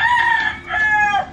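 A rooster crows loudly and close by among farm chickens, a single drawn-out cock-a-doodle-doo call lasting just over a second.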